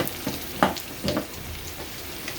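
Panch phoron spice mix fries in hot oil with a little sugar, giving a soft crackling sizzle broken by a few short pops and sputters over a brief stretch, with no voices.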